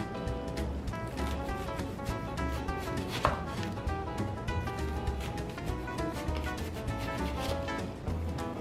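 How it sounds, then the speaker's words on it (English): A knife slices food very thin for a cheeseburger, making rapid, steady strokes against a cutting board over a faint musical background. "Slice them up really, really thin."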